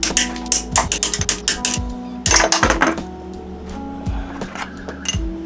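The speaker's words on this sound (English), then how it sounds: "You're gonna wanna use an 8mm socket to take off all 14 bolts." Ratchet wrench with an 8mm socket working bolts loose on a Yamaha Raptor 700 ATV, a quick run of clicking pawl bursts in several separate loud bouts, close up, with occasional metallic clinks between them.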